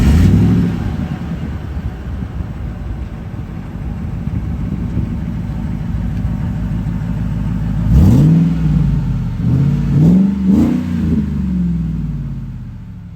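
A supercharged 2004 Ford SVT Lightning pickup's engine rumbles steadily under load while driving, with a few rising rev swells near the end as the truck accelerates and shifts.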